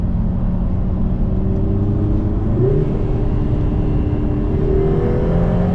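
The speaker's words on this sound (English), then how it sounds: "This is actually going through the gears quite smoothly, but still rapidly" A 2024 Lotus Emira with a 2.0-litre turbo engine accelerating hard through the gears, a loud steady engine drone rising in pitch with a quick gear change, heard from inside the car while someone talks over it.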